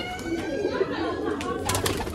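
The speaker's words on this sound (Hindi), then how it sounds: "ये कबूतर सारे" Pigeons released from a box coo and rustle close by, a dense continuous murmur of bird sounds with soft fluttering.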